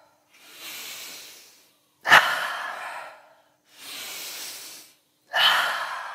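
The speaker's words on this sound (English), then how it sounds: "Continue breathing deeper" Deep, slow breathing during a guided breathwork exercise: four long breaths alternating in and out, each lasting over a second with short silent gaps, close and fairly soft, with no talk over them.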